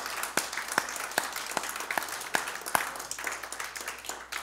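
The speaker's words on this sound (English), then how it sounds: "Give the Lord a hand clap this morning." A church congregation claps together at a Sunday service, a brisk run of sharp, fairly even hand claps blending into applause-like patter, with a little background voice.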